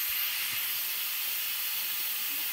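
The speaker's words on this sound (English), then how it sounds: "you can hear the steam releasing" Steam hisses steadily out of an Instant Pot's quick release valve while it vents pressure after cooking borscht soup. The broad, loud, continuous rush holds constant for the whole stretch, with no voices.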